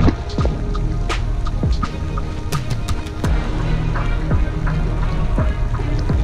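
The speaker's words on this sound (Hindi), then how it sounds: "ये बारिश हमें बहुत ज्यादा डिस्टर्ब कर रही है" Steady mountain rain with frequent sharp drops and patters striking a surface close by, over a constant low rumble, on the Naran to Babusar route in Pakistan at about 8 degrees.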